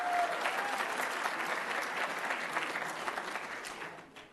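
Audience at a graduation ceremony breaks into steady, full applause, a dense wash of many hands clapping that holds evenly before tapering off at the close.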